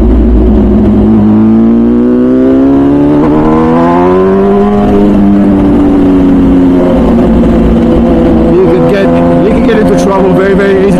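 An MV Agusta Brutale 1000 RR naked superbike, 215 hp, revs hard at the Nurburgring: a loud, close engine note that climbs and falls in pitch, then settles into a steady drone, with talk over it.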